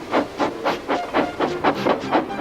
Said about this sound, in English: with much noise and blowing of steam